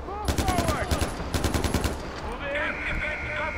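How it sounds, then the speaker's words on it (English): Rapid bursts of automatic gunfire in Far Cry 4, men shooting at an animal, loud and close in quick rattling volleys across the first two seconds, with game ambience and effects trailing after. "Oh, they are shooting the animal."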